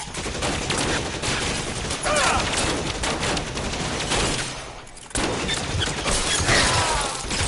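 Sustained gunfire in the L.A. Noire video game, a dense barrage of shots filling the whole stretch, loud and continuous with a brief lull near the middle before the firing resumes.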